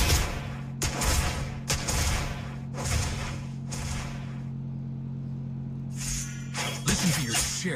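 Video game gunfire: several loud bursts of rapid shots with short pauses between them, over a steady low hum, with a final flurry near the end.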